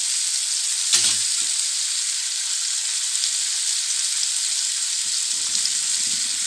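Fish pan-fries over a low flame for a pepper fish fry, giving a loud, constant hissing sizzle up close, with a couple of brief utensil knocks in the pan.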